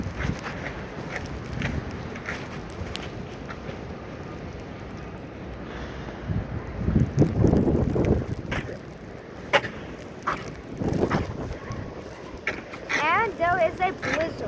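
Wind gusts push snow through a New York City street during a blizzard, a steady blustery rush with stronger surges from about seven seconds on, heard close against the microphone.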